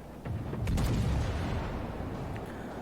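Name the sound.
naval gunfire in World of Warships video game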